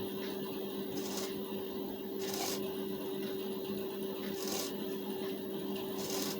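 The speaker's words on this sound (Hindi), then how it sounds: "आधा इंच का दबाव लेकर सिलाई चलाएंगे" A sewing machine stitching a blouse gives a soft, steady mechanical hum with a light rhythmic clatter, quiet and close, broken by several short bursts of brisker stitching.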